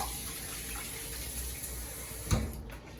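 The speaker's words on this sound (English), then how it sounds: "Dealing with raw meat, you always want to give another rinse of the hands." Hands are rinsed under a running kitchen tap while raw beef is being prepared. A quiet, steady stream of water flows, with a brief louder splash near the end.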